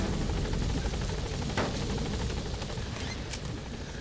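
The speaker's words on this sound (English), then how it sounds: "I came in with an attack helicopter to get an extraction" Attack helicopter Pequod in Metal Gear Solid V, a loud continuous rotor chop with a rapid pulsing beat and a steady engine roar, heard close up.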